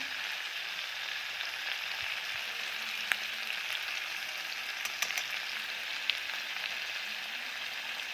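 Tomatoes cooking in a pan with salt and Kashmiri chilli, a steady soft sizzle running throughout, with a few faint clicks of a utensil against the pan.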